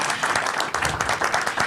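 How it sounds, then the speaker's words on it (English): An audience at the Game Changers awards event at the UN gives a round of applause, with dense, lively clapping in quick uneven bursts, close and fairly loud throughout. "Please join me in giving a round of applause."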